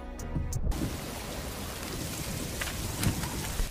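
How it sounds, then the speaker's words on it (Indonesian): Heavy rain pours steadily in a film scene, a dense continuous hiss of downpour with rumbling low thunder underneath, loud and close throughout with no talking. "hujan telah turun dengan sangat deras"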